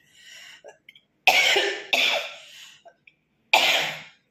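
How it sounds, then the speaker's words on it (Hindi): Three harsh, loud coughs burst out close by, separated by short pauses, with faint breathing and throat sounds around them. "खांसी हो गई"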